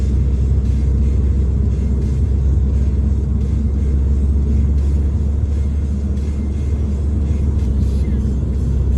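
A car driving along a road and easing off into a sharp curve, heard as a loud steady engine and road rumble from inside the vehicle.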